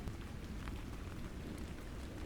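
Steady rain falling, a soft continuous hiss of drops with faint scattered patter, even and unbroken from start to finish, with no voices.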